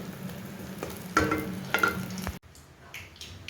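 Chopped greens sizzle and crackle in a little hot oil in a home kitchen, close and steady, with a few louder bursts of stirring before the frying drops away near the end.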